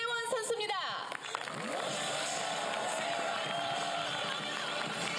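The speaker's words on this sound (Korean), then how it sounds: "큰 환호와 박수를 보내주시기 바랍니다" A crowd at a KLPGA golf award ceremony cheers and applauds the season's final champion, a broad steady roar with clapping; a voice speaks briefly at the start before the noise settles into a sustained wash.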